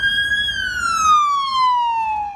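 A Louisville Metro EMS ambulance siren wails nearby, one loud, clear tone that sweeps up and then glides steadily downward over about two seconds, with no one talking.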